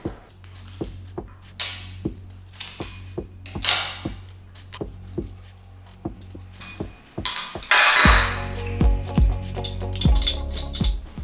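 Metal spoon clinking against a jar while scooping moisturizer into it, with sharp, regular taps every half second or so, followed by a denser scraping and clattering stretch near the end.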